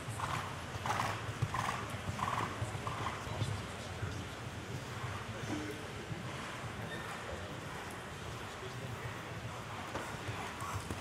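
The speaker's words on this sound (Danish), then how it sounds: "Så er hesten op i trav." A horse trotting, hooves striking in an even two-beat rhythm at moderate distance, set against a steady wind-like rush of background noise.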